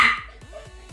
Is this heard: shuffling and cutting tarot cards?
no